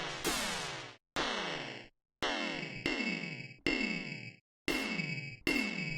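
Additive synth pad 23 from Rob Papen Punch-2 plays a run of bright, harmonically rich electronic notes with swooping, sweeping tones. Each note lasts under a second and is separated by short gaps.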